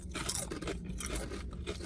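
Salt and vinegar kettle chips crunched up close, a few loud, crisp bites in quick succession followed by brittle scraping and chewing, with no talking.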